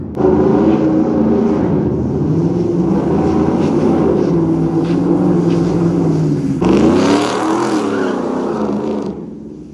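A Ford Mustang Terminator Cobra revs hard as it tears around a parking lot, its loud engine roaring steadily and surging again near the end, close by with no talk.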